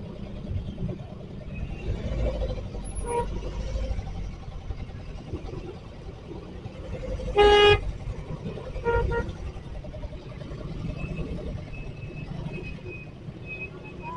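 Busy road traffic on a motorcycle holiday route near Bekasi and Cikarang, a constant rumble of engines with one loud, near horn blast midway and a few shorter toots around it.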